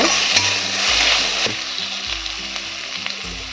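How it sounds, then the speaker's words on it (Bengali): Crushed garlic sizzles and fries steadily in hot spiced oil, a dense close crackle with a few scraping stirs of a utensil against the pan and no talk. "রসুনটা দিয়ে দেবো রসুনটাও ভালো করে ভেজে নেব"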